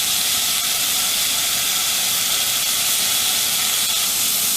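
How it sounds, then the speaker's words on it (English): Chopped bacon sizzling in a preheated iron skillet, browning for Brussels sprouts: a loud, constant hissing sizzle that holds unbroken for a few seconds, with no voices. "I'm just going to cut some off the end and throw it in my skillet to brown."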